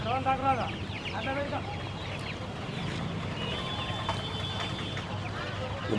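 Chickens cluck in short bursts over a steady, noisy background, with faint voices in the distance, at a poultry market in Anantapur, India.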